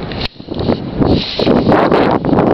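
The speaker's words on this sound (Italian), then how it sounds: "Speriamo non continui a tirare questo vento" Strong wind buffets the north face of Monte Camicia, a steady, loud broadband roar with gusty surges and one brief lull near the start, with no voices.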